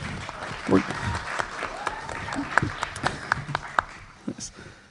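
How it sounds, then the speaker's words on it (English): Scattered applause from an audience at a live event, fairly light and uneven, with a few louder individual claps and some voices mixed in. "If you want to give a round of applause for them."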